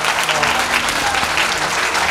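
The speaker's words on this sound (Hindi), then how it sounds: "ताली बजाएं जोर से" A church congregation claps loudly at a healing testimony service, a dense, steady applause that holds for about two seconds.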